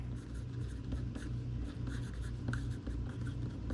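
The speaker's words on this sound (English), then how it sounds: "Write the do not bend on here." A pen writes across a legal-size flat rate mailing envelope, the steady scratching strokes close and continuous over a low background hum, with no talking.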